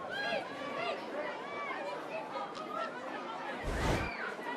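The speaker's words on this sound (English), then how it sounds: "But the vocal Canberra crowd don't like anything the way of Perth Glory." Vocal Canberra crowd at a women's A-League football match, chattering and calling out in the distance under close commentary.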